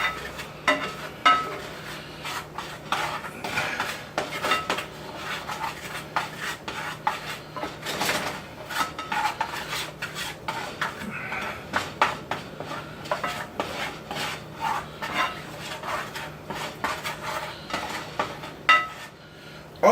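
A utensil scrapes and clinks steadily around a pan while a thick roux-like mixture for tuna fried ramen is stirred, with irregular metallic taps and rubbing continuing for the whole stretch and no talking.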